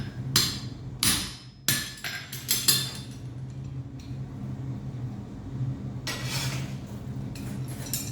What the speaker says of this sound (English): And I simply use the guillotine